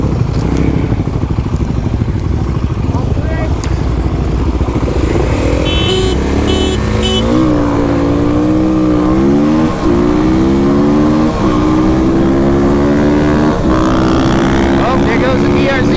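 KLX300, WR250R and DRZ400 dual sport motorcycles drag race, engines revving and rising together through gear changes after rough idling and wind noise, loud and fairly close, with some voices mixed in.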